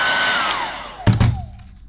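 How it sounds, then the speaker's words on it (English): A hairdryer blows steady hot air across a vinyl decal on an ARRMA Fireteam RC car body, a loud whooshing roar that slowly fades, then a couple of sharp handling knocks near the end. "we're going to use the hairdryer at the end, just a bit of heat all over it"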